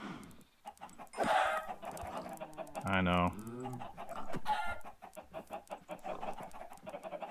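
Chickens cluck and squawk in a Minecraft-style farming game, several short bursts close by over a steady clicking background, with someone speaking briefly.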